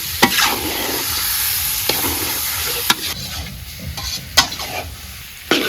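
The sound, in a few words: beef frying and being stirred in a pot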